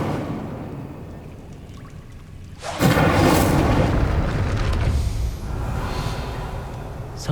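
An Incendio fire spell is cast in the Hogwarts Legacy video game with a sudden loud whooshing burst about three seconds in. A roaring rush follows and slowly fades, then a second, softer flare comes near the end.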